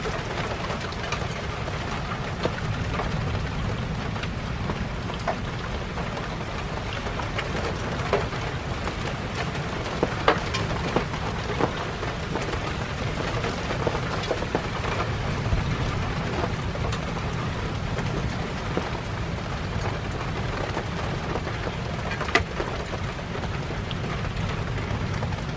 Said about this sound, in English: Okay, it started to rain. Very heavy rain. Wind is picking up.